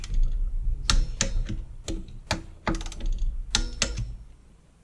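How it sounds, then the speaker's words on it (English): A preset torque wrench tightens the tank housing on a Farmertec G660 chainsaw build, making a series of close, sharp ratcheting clicks in irregular bursts. "Okay, so I preset this torque wrench."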